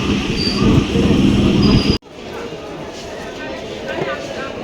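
A train pulling into a station near Basirhat, a loud steady rail rumble with low drone, cutting off abruptly midway to a quieter carriage or platform ambience with scattered noise.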